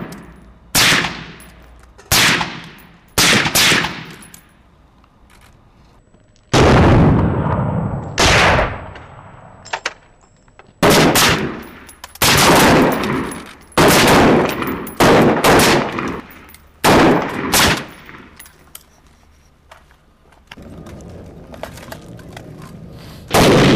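Gunfire during weapons training rings out in loud, sharp bursts, single shots and quick volleys spaced by short pauses, each crack followed by a fading echo, with no talk over it.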